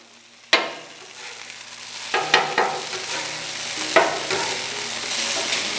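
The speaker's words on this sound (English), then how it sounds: "let's give that steak a flip" Steak sizzles on a flat-top griddle with a continuous crackle, broken by sharp clanks and scrapes of a spatula as the meat is flipped.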